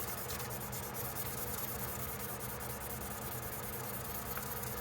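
A steady, dense rubbing hiss of wet/dry sandpaper worked against a knife blade on a Case XX camp knife, continuous and close without pauses.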